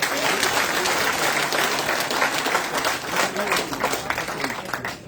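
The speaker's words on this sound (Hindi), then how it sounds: "खटाना साहब के लिए जोरदार तालियों से स्वागत" A crowd at a BJP felicitation event in Jammu and Kashmir applauds a newly nominated Rajya Sabha MP, with loud, steady clapping filling the whole stretch and a faint murmur of voices underneath.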